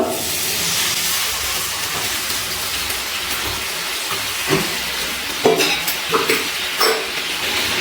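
Warm water hits fried masala in a hot pan for restaurant-style egg masala, releasing a loud steamy hiss that slowly fades, followed by several scraping stirs against the pan near the end.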